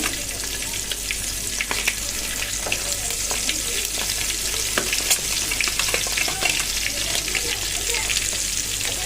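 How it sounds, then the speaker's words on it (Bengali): Fish sizzling and spitting in a hot kadai, a dense steady crackle with scattered pops and stirring sounds, close up. "এখন মাছগুলো ভেজে নিই"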